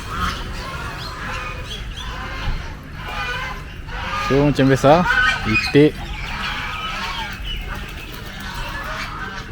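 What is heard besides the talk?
ayam api chicken, grey with white spots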